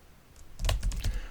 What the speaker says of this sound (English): Why does the keyboard just stop working?